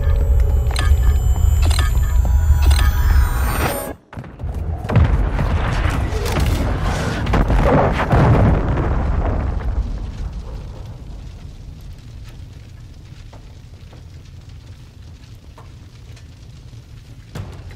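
A tactical nuke (MGB) detonates in Modern Warfare 2, opening with a sharp cutoff, then a massive deep boom and long rolling rumble that slowly fades over many seconds, loud and alone without talk.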